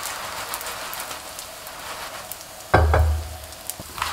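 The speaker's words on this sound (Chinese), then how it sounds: "然后给饼翻面，烙制几秒钟，同样端起锅转动一下饼皮" Homemade layered flatbread frying in a pan, a steady close sizzle with a few louder bursts and a brief heavier clatter partway through, no talking.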